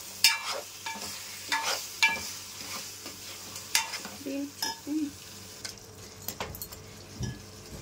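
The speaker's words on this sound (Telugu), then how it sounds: "మటన్ కూడా వేసేసి బాగా కలిపేసుకోవాలండి" Mutton is stirred into masala in a pot, with irregular scraping and clinking strokes of a spoon over a low sizzle, close and fairly quiet, no talking.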